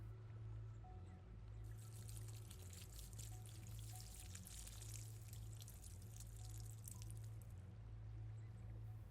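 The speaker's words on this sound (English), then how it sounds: "Now the necromancer is watering the pumpkins." Water is poured steadily over pumpkins in a garden, a soft continuous splashing stream that runs for several seconds over a low, constant background hum.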